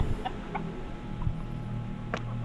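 A pumpkin hatch gamefowl rooster gives a few short clucks at close range, with scattered brief calls over a low steady background hum.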